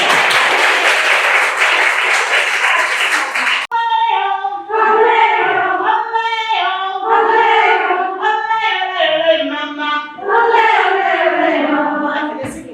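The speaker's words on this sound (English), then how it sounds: "give them a round of applause" A dense burst of applause for a few seconds, then it cuts to voices singing a chant-like tune together.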